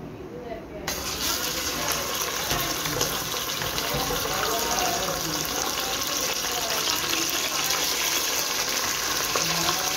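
Chicken pieces frying in hot oil in a pot, a steady broadband sizzle that holds loud and close for the whole stretch after a brief quieter start.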